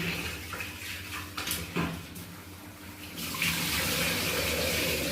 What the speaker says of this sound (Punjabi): ਇਹਨੂੰ ਤਿੰਨ ਚਾਰ ਵਾਰੀ ਤਾਂ ਧੋਈ ਲਵਾਂ ਇਹਨੂੰ